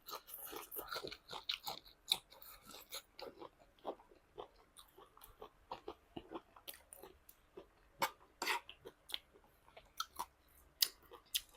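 Close, crisp crunching and wet chewing of vegetables dipped in Thai shrimp paste chili dip, with irregular bites and mastication continuing steadily at a quiet level with no talk.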